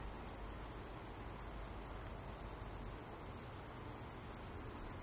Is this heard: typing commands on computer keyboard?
no